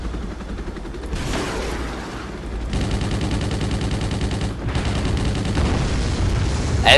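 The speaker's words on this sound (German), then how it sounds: "Also schon mal Ultra Hammer Explosion." Video game explosions and gunfire in Helicopter Simulator multiplayer, loud rumbling bursts and rapid crackling fire that swell and drop and end in a sharp blast.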